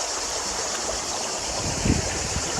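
Steady rushing river water in Dark Canyon, a continuous broadband wash with a brief louder splash near the end, close and alone without voices.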